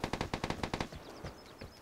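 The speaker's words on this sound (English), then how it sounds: "And that sounds like an AKM." A close burst of rapid AKM rifle fire in the video game Vigor, about a dozen sharp evenly spaced shots in under a second, followed by a few scattered echoing pops.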